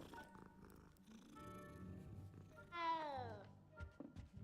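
Cat in the Hogwarts Legacy video game purring steadily, then giving a clear rising-and-falling meow, quiet and close, with a little talk around it.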